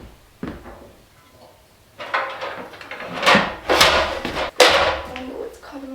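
A ladder is worked through a doorway in a tiny home build, giving a sharp knock, then a run of bumps, scrapes and clattering thuds as it is shifted and pushed through.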